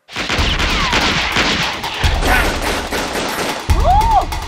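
Sustained, rapid gunfire crackles in a dense, loud volley in a dramatized reenactment of the Korean military coup and the army chief of staff's abduction, with a brief whistling tone near the end.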